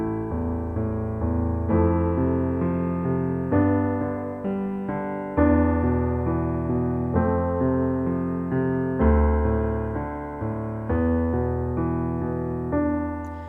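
Piano octave chords roll in a skipping up-and-down pattern, each chord struck firmly and left to ring into the next, a steady, full, resonant progression with no voices.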